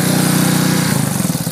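A Yamaha Warrior 350 ATV engine with a sticking throttle runs loud and close at a steady buzzing pitch, then drops into a rougher, pulsing chug.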